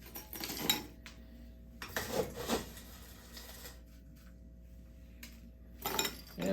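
Ice cubes drop and clink into cactus-shaped margarita glasses in a few short, bright bursts of rattling against glass, fairly close but soft, with quiet pauses between scoops.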